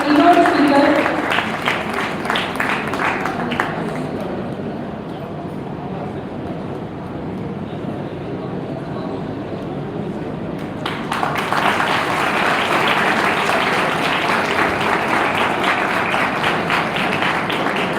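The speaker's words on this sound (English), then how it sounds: "Please have a big round of applause for our keynote speaker." Applause from an audience for the keynote speaker at an Engineers Day celebration at a university, a broad wash of clapping that swells, eases into a duller murmur through the middle, then rises again and holds steady near the end.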